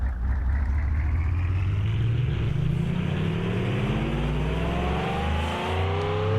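A hatchback's engine revs hard as the car pulls out from a stop sign and accelerates, the close, loud roar climbing steadily in pitch through the gears.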